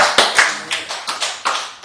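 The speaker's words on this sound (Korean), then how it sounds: "함께 영광의 박수를 함께 돌리겠습니다" A church congregation claps during a worship service. Sharp, distinct claps land in a loose, rhythmic pattern, about eight in under two seconds, close and fairly loud.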